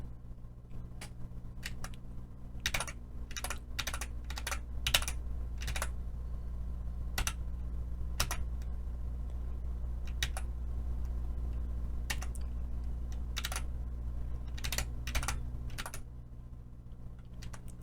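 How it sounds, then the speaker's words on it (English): Computer keyboard keys tapping in irregular bursts of quick clicks over a low steady hum, fairly faint and close, with no voices. "You can probably still hear the keys tapping though."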